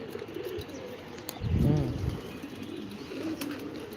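A single pigeon coos briefly and softly, with faint rustling and background noise around it.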